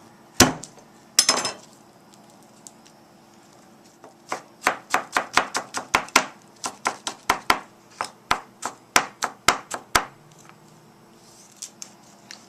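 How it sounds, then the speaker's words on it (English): Garlic chopped with a knife on a board while cooking Tibetan beef with radish: a couple of heavy opening whacks, then a steady run of about twenty crisp, evenly spaced chops, close and clear, with no talking. "Why I chop this garlic means it's easy to skin it and easy to chop"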